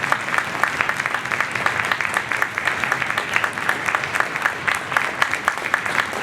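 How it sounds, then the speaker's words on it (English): A warm round of applause fills a hall at a lower school band and orchestra concert, many hands clapping steadily in a dense, even wash from a seated audience, with no voices over it. "please give them a warm round of applause"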